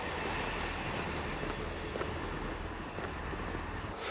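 A train passing through a small Welsh coastal railway station near Barmouth gives a steady, continuous rumble and wheel noise at moderate distance, with faint squeaks or clicks over it and no talking.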